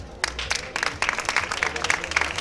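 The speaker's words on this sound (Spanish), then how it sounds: "Un fuerte aplauso." Strong applause from the assembled people at a brotherhood's floral offering to Our Lady of the Sea in Isla Cristina, a dense, continuous clapping that carries on evenly from start to finish.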